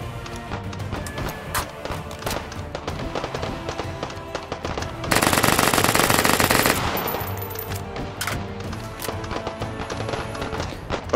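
Rapid automatic gunfire from the VR shooter H3VR in a battle royale match, dense bursts of shots running throughout with a louder, sustained volley in the middle, up close and busy.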